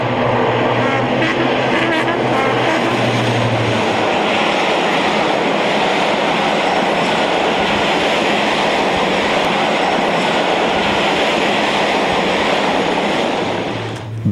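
A Class 55 Deltic diesel locomotive heads south past Potter's Bar with a passenger train, with a loud, sustained engine roar and rumbling wheels close by throughout and a steady drone that fades slightly at the end.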